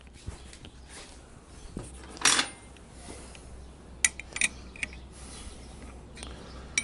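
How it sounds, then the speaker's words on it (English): A slide hammer pulls an early-type transmission seal with a few sharp metallic clanks: one louder strike early on, then a quick cluster of lighter knocks, spaced irregularly over a quiet workshop background. "Again with the slide hammer."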